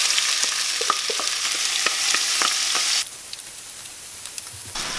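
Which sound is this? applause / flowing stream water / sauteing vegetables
sauteing vegetables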